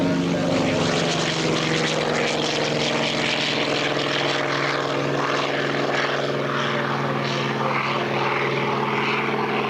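A single-engine propeller airplane running on 15W50 Shell oil roars steadily at full power during its takeoff roll, a loud, continuous engine drone with a strong harmonic hum that holds constant throughout.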